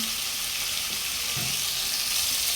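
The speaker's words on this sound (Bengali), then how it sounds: "টমেটোগুলো শুধু এভাবে তেলে ভেজে নিয়ে" Tomatoes fry in hot oil in a pan for a Bengali fish curry, producing a loud, steady, close sizzle that continues without a break and without any voices.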